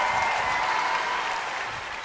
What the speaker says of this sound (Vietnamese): Cho nên là mọi người vỗ tay cho anh thêm một lần vì điều đó.